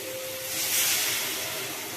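Water poured into fried spice paste for a jackfruit kofta curry, giving a steady broad hiss that swells slightly in the middle and holds throughout, with no talking.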